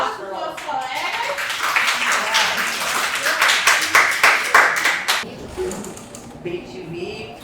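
Adult education students in a classroom clap for their classmates, a burst of brisk uneven handclaps that builds, then stops, followed by quieter room sounds.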